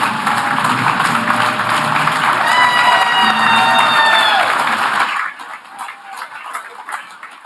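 Applause in a cathedral during a 100th anniversary dedication celebration: loud, dense clapping with cheers and whoops ringing in the reverberant space for about five seconds, then stopping abruptly, leaving quieter room noise and murmurs.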